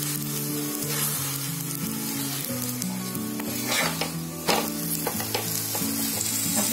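Flatbread sizzling steadily on a hot, oiled griddle, a continuous close frying hiss with a few crackling pops, with tonal background music running underneath.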